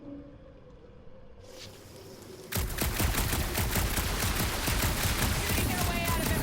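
Loud, continuous rapid gunfire in Marvel's Guardians of the Galaxy erupts suddenly after a quieter ambient stretch and keeps hammering steadily to the end.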